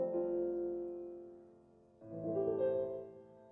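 Two sustained piano chords, the opening of a song, played slowly and softly, one ringing out and fading before the second is struck and left to decay, with no talking over them.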